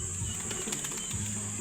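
Pigeons released from a training box at a racing pigeon release point, with brief soft wing flaps and faint coos close by over a steady background hum.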